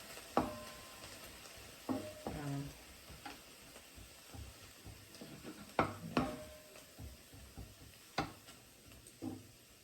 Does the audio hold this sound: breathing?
no